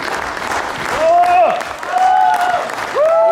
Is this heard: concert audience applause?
yes